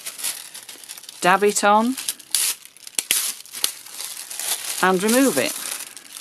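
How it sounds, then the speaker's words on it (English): Aluminium foil being handled for handmade decorative foil tape, with crisp, close crinkling and rustling in bursts. A person talks over the sound throughout. "Just take your foil,"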